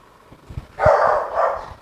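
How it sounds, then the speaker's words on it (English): A puppy yaps in a short burst, a couple of bright barks following each other indoors amid the chatter of a makeup launch party. "That's the puppy, everybody."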